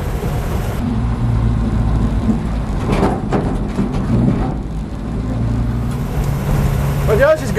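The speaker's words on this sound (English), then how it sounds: "I'm driving here on a dirt road that's full of holes." A 1951 Chevy rat truck bouncing along a potholed dirt road, its engine a steady low rumble under constant rattling and road noise from inside the cab, with a few louder jolts along the way.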